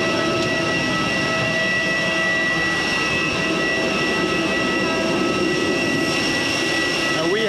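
A passenger airplane taxis on the runway after landing in Isan, Thailand, heard from inside the cabin as a steady loud engine whine and rumble with faint background voices.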